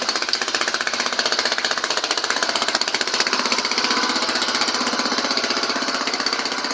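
A walk-behind tractor with a replacement engine idles in neutral, a steady, loud, rapid chugging with a fast pulsing rhythm that runs unbroken and close throughout.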